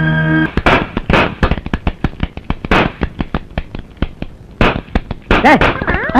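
Toy cap gun fired during Diwali, a rapid series of sharp, loud, close pops with uneven spacing across several seconds. A brief voice is heard at the start and again near the end.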